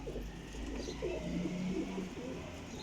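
Breeding pigeons, young birds around two to three years old, coo in soft, repeated low phrases, close by over a faint steady background hum.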